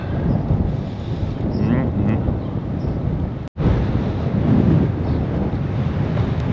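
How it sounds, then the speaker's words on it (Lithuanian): Strong wind buffets the microphone at a campsite on the Spanish coast between Benicàssim and Altafulla, a continuous roaring rumble cut by a brief dropout midway, with voices faintly mixed in. "Kažkokie neaiškus vėjai yra užsukę"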